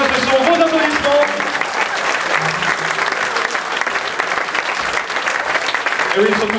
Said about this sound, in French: Vous savez que la meilleure récompense des musiciens et des musiciens, ce sont vos applaudissements.